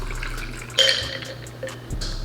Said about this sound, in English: I'm gonna go ahead and slide the orange onto the glass and pour up